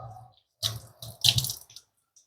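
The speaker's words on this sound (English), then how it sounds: "Just run it under the water" Tap water running into a kitchen sink while salted nuts are rinsed off, heard as two short bursts of splashing flow with a brief pause between them, close and fairly quiet.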